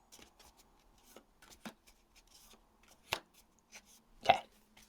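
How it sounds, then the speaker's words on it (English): A traditional tarot deck is shuffled by hand in quiet, scattered bursts of card riffles and taps. The softer clicks build to a sharper, louder snap of cards near the end, close by with no talking. "I feel like I want to shuffle this one a little bit."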